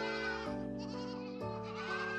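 Goats bleat on a black goat farm, several loud, sustained wavering cries from close by, one call giving way to another with no talk.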